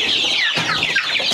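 Chickens cluck and squawk close by in a busy, continuous jumble of calls, one sound blending into the next, with no talk over them.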